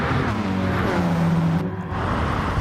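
Race car engines in Gran Turismo on the Deep Forest track during an online streamers' race, a steady engine drone with a rising and falling pitch and passing cars, heard alone at moderate level.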